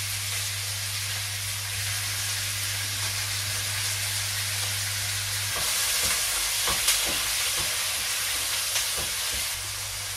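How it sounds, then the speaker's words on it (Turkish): Small diced chicken pieces sizzle in a frying pan with a steady, close hiss over a low hum, and a few scraping stir knocks in the second half. No one speaks. "Ve kavuralım."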